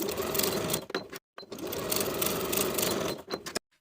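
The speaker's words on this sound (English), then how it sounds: "Sew these shoulder seams with a 3/8 inch seam allowance" A home sewing machine stitches the shoulder seams of a knit T-shirt in two steady runs of fast mechanical whirring, pausing briefly between them and stopping abruptly, close and without talk.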